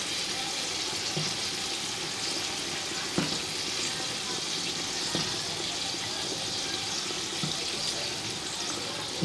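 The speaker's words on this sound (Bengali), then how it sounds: "জলটা পুরো ফুটে গেছে, তো সেদ্ধ করার জন্য আলু দিয়ে দিব এখন এর মধ্যে।" Large washed potatoes go into a pot of fully boiling water for biryani: a steady, dense bubbling hiss with a couple of soft splashes or thuds from the potatoes dropping in. No voices.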